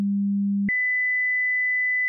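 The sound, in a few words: two test tones played at equal loudness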